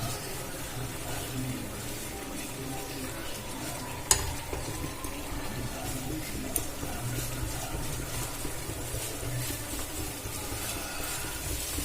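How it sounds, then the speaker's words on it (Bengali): Bread snack mixture with sugar and turmeric being stirred and fried in a pan, a continuous close sizzle with scraping stirs and an occasional clink of the spoon. "এবার এটা খুব ভালো করে নাড়াচাড়া করে ভেজে নেব।"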